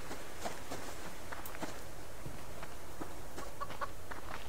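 Chickens clucking on a remote subsistence homestead, short irregular calls scattered over steady outdoor background noise, fairly faint and with no talk.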